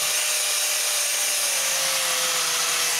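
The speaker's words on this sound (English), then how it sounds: "I remove the thick, flaky rust while René sands the surface" Steady, loud power sanding grinds flaky rust from a metal trailer, a continuous abrasive hiss with a faint whine running unbroken throughout.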